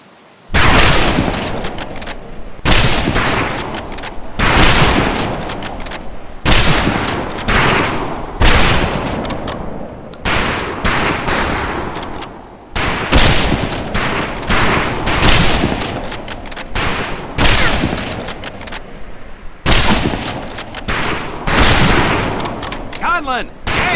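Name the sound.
rifle gunfire at a firing range, from a video game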